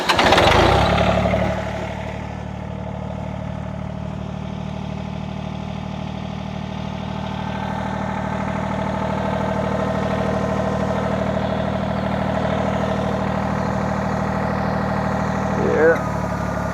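A John Deere 855 compact tractor's diesel engine cranks, catches and settles into a steady, close idle with a continuous low drone, with a brief clank near the end.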